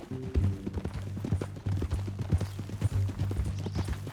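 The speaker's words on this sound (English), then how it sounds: "That a new horse?" Horse hooves clip-clop in a steady, close walking rhythm in Red Dead Redemption 2, the clear footfalls repeating evenly throughout with no talk over them.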